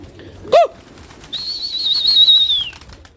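Pigeons kept by a fancier, with a short burst of wing flapping followed by a sustained high whistling call, near and fairly clear against quiet background.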